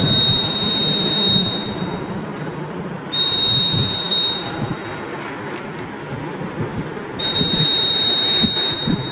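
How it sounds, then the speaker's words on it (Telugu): A laser light security alarm sounds whenever its beam is blocked, giving a piercing high electronic tone that starts and stops in repeated bursts over steady background room noise. "సో పెన్నుతో ఏదైనా ఆటంకం ఏర్పరిచినప్పుడు ఇది మోగుతుంది అలారం"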